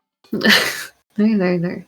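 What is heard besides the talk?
sneeze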